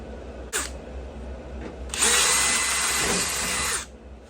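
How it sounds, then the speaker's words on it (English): A power drill whirs briefly, pauses, then bores holes in a custom log splitter part steadily for about two seconds at close range before stopping. "we'll drill some holes"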